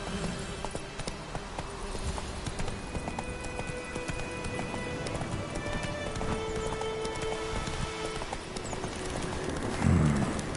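Roach the horse trots in Witcher 3: Wild Hunt, hooves clip-clopping in a steady rhythm close by, with faint ambient sound beneath.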